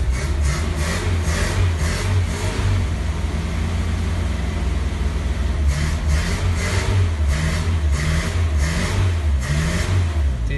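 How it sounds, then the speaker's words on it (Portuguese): Golden Ford Del Rey car engine revving repeatedly, close and loud, with rhythmic throttle blips rising and falling over a rumbling idle, no voices. "Vocês gostam de ver o acelerar no carro?"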